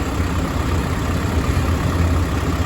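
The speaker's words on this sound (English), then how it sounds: "trying to tear up the four-wheeler on the second bale" A four-wheeler ATV engine churns steadily in a hay field among bales, a loud, close, unbroken low rumble with no voices.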